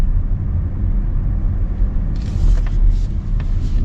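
A 2025 Mazda CX-50 Turbo engine pulls hard under acceleration, a steady deep rumble that stays loud throughout with a faint higher whine rising near the end.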